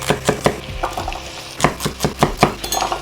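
Carrots being chopped into cubes with a knife on a board while making beef stew, giving a quick series of sharp, close taps in uneven bursts, a few clustered together, with no talking.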